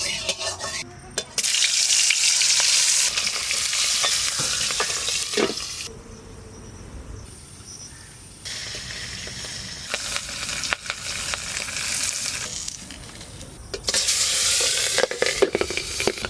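Magur fish frying in hot oil in a wok, giving a loud dense sizzle with crackling pops that drops away for a few seconds, as when a lid is held over it, then returns.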